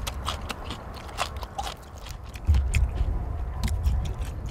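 Crunchy Korean melon (chamoe) bitten and chewed outdoors after farm work, giving a series of crisp, close crunching bites with a steady low background rumble.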